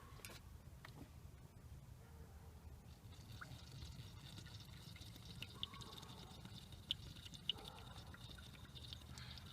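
Motor oil pours into the engine of a Mini Cooper, a quiet, steady glugging fill with small drips over a faint background hum.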